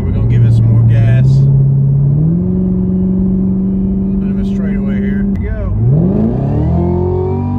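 A Chevrolet Camaro ZL1 accelerates hard from inside the cabin, its engine note climbing steadily through the gears with brief drops at each shift, loud and continuous.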